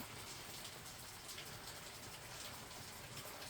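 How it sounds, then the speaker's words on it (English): Steady rain falling outside, a dense even hiss of drops on surfaces, constant and fairly faint, with no voices. "It started raining a while ago and I had to get outside."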